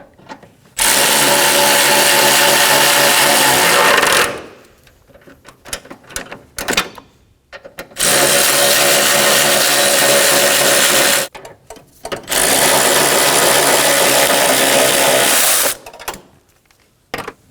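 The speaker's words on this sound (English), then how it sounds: "Snug the bolts down." Power tool snugging engine mount bolts on a 2013-2017 Honda Accord, three loud sustained whirring bursts of several seconds each, separated by short pauses with small clicks and handling noises.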